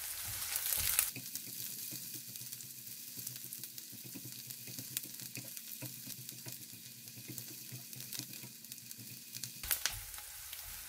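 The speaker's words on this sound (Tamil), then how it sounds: "வெங்காயம் செத்த மிளகாய் எல்லாம் கொஞ்சம் வதங்கிச்சது" Chopped onions and dried red chillies sautéing in a pan, a steady close sizzle with light stirring clicks that cuts in after a short opening burst and drops away near the end.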